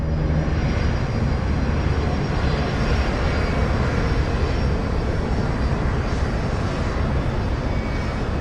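Crossair Flight 3597 airliner cruising at 27,000 feet above Germany, a steady broadband engine and airflow roar from inside the aircraft, continuous and loud with no talk throughout.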